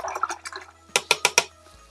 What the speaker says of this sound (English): Rinse my brush.